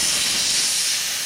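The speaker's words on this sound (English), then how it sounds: "Then take your air nozzle here," Compressed air blasting from a handheld air nozzle while drying a turbo housing before painting, a steady loud hiss held at close range for a little over a second with no talking.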